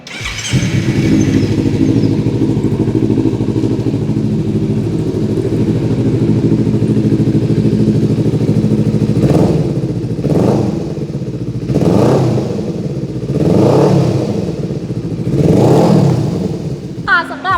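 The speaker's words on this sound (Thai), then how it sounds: "เดี๋ยวมาให้ฟังเสียงกันเนาะว่าเสียงท่อเนี่ยจะประมาณไหนนะคะ" A Kawasaki Z300 motorcycle engine idles with a low, steady burble, then the exhaust roars through several sharp revs in a row, each rising and dropping back.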